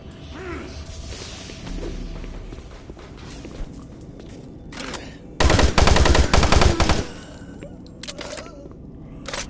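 A sudden loud burst of rapid automatic gunfire from the video game Doom 3 lasts about two seconds. It stands out sharply against quieter ambient game noise and scattered footsteps before and after.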